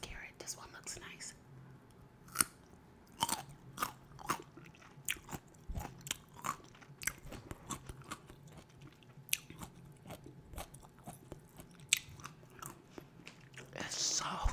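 Close, crisp bites and crunches from a pickled carrot, a string of sharp, irregular snaps and chews recorded up close in a quiet room with faint whispery breaths.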